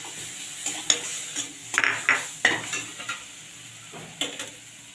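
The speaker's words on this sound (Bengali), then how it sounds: "আমি একটু টমেটো দিয়ে দিচ্ছি টমেটোটাকে একটু ভেজে নেবো" Tomato and ground spices fry steadily in a pan, sizzling while a utensil scrapes and clinks against the metal several times, with no talking.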